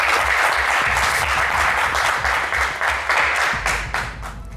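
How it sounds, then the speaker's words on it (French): Studio audience at a television game show bursts into loud, sustained applause with rhythmic clapping, easing off slightly at the end. "je sais que le public va vous encourager, oui, avec un maximum d'applaudissements tout de suite"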